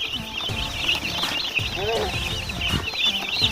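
Baby meat-bird chicks cheep in a continuous high-pitched chorus close by, while people talk over them.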